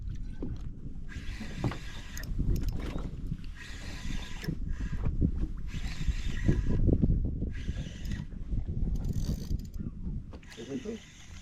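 A fishing reel's line pays out with a steady mechanical ratcheting whir while a large sea bream is fought from a boat, close and continuous against water and engine noise on the open sea.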